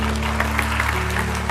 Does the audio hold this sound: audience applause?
yes